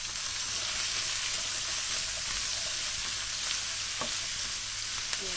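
Garlic, ginger, red chilli and green beans sizzle steadily in a hot pan while being stirred, with a constant bright frying hiss and occasional soft clicks of the utensil.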